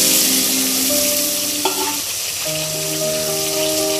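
Green chilies and tomatoes sizzling steadily in a hot pan, a loud close continuous frying hiss with stirring and a faint tonal hum in the background, no voices.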